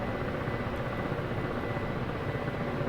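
Helicopter in DCS World, a steady broadband rotor and engine drone held at a constant level throughout, with no talk over it.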